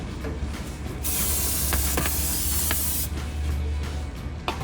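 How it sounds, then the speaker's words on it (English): Brake cleaner sprayed onto the front brake rotor disc of a 2015-2020 Dodge Charger during a PowerStop Z26 rotor and pad install: one close, loud, steady hiss lasting about two seconds, with quieter shop ambience before and after. "So now we're gonna spray the disc"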